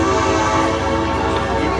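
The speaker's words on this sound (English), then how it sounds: "that guy is not shy with the horn" A locomotive horn blows loudly and continuously nearby, a sustained chord-like blare that holds steady for the whole short stretch without a break.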